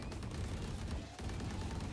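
Gunfire in the Valorant shooter game, a rapid rattle of shots over a dense, rumbling background, with a brief dip in the middle before the firing resumes.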